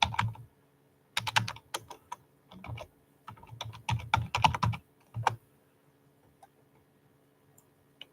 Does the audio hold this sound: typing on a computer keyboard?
yes